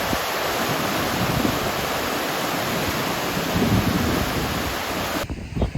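A waterfall roars close by in Iceland, a loud, constant rush mixed with buffeting wind, with no one talking until a brief cut at the end.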